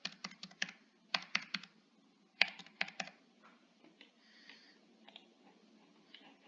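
Quick bursts of computer keyboard typing while entering a phone number with country code, clusters of crisp close keystrokes separated by short pauses, then softer scattered taps.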